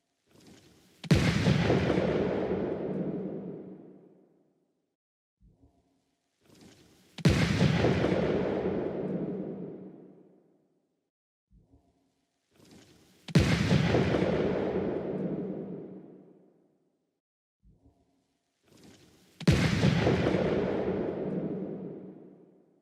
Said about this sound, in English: If I pack the Mongols' black powder into a clay pot, I can set it aflame and throw it as a weapon.